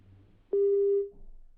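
A single steady telephone busy tone after a call is hung up, one loud sustained beep of about half a second, clean and alone, fading into faint room noise.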